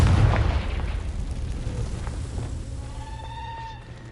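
A Confringo fire spell blast in the Hogwarts Legacy video game: a deep boom at the start that rolls off into a fading rumble, with faint bleating creature calls rising near the end.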